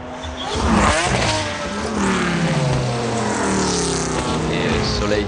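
A race car engine at the 1996 Le Mans 24 Hours roars close by, with rising and falling pitch as it accelerates and changes gear. A commentator's voice can be heard faintly underneath.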